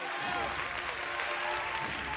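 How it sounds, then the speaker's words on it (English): A fight crowd at a Hikaru Machida mixed-martial-arts bout cheers and chants along with the kicks: a dense, steady roar throughout, with a voice talking over it. "the crowd loves it. They're chanting along with every kick."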